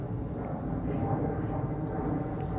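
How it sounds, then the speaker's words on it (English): A steady, broad low rumble of an airplane passing high over a front yard garden in June, filling the whole stretch evenly at moderate loudness with no speech. "you can hear a plane"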